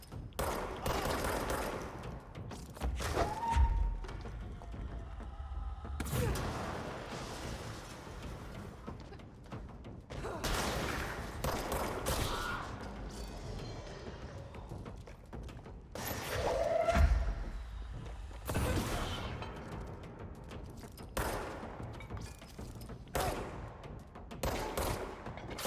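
Gunfire in a horror video game: repeated bursts of loud shots and thuds recur across a dense, noisy stretch, with a couple of sharper impacts standing out.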